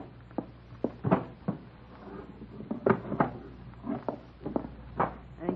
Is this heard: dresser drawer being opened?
yes